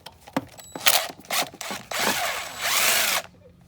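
A power drill backs screws out of the coil pack cover on a Dodge Charger R/T 5.7L HEMI engine, giving several short, close whirring bursts followed by a longer sustained run, with light scraping between them.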